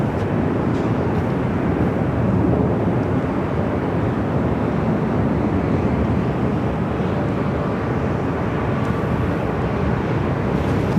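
An Airbus A320neo jet departs Los Angeles LAX for San Francisco, a steady broadband engine roar that holds loud and unbroken throughout with no pauses.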